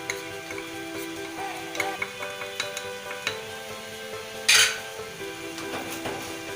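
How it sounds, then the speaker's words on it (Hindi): Minced meat frying with spices in a pan for keema, a steady sizzle under repeated scrapes and clinks of a spoon stirring against the metal, with one brief louder hiss partway through. "इसको इसी तरह से 1-2 मिनट चलाते जाएंगे, साथ साथ हम अपने स्पाइसेस ऐड करते जाएंगे।"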